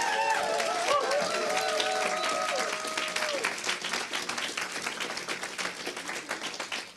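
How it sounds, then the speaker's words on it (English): Applause from a conference plenary audience honoring the organizing committee, steady clapping that follows a brief tonal sound at the start and then slowly thins out, with some murmuring voices. "a round of applause for my colleagues and friends"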